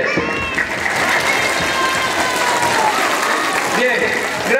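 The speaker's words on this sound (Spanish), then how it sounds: "Aplausos para ustedes." Loud clapping from a group of children at a Christmas event in Pomabamba, mixed with excited chatter and shouts, close by and continuous.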